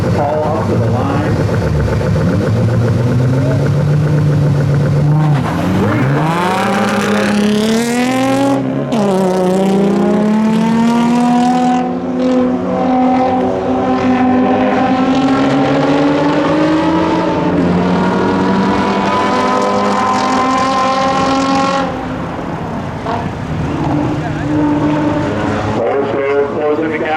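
Two drag racing cars at a North Carolina spectator drag meet rev loudly at the line, then launch and scream down the strip with rising, sweeping engine pitch, close and powerful throughout.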